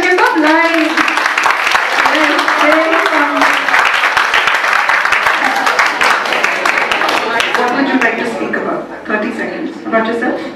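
An audience at a skill-development talk claps continuously with dense, steady applause for most of the clip, tapering off at the end, with voices heard over it.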